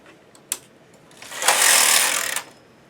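A knitting machine carriage knitting a row of green yarn, a brief click followed by a close, hissing mechanical sweep lasting about a second.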